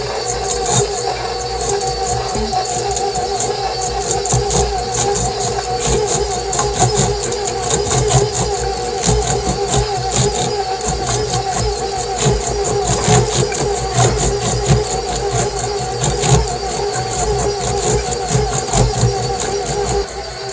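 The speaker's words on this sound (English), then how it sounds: "I like to break out the old KitchenAid mixer just with the paddle attachment, and we're just going to add a little bit at a time." An old KitchenAid stand mixer with the paddle attachment churns shredded cabbage for sauerkraut, a loud, steady motor whir with a rhythmic thumping texture running throughout.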